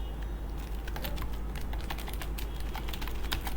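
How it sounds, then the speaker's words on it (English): Quick, light keystrokes on a computer keyboard, an irregular patter of soft clicks close by over a faint steady hum, with no speech. "we'll type in a short description"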